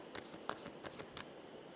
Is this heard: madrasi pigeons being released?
no